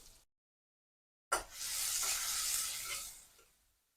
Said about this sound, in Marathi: तेलही छान तापलेलं आहे आपण कांदा घालून घेणार आहोत प्रथम कांदा छान आपल्याला परतून घ्यायचा आहे